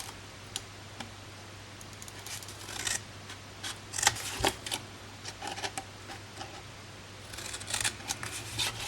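Scissors snip and trim paper for a gift box in a series of close, crisp cuts with short pauses between clusters, alone without talk.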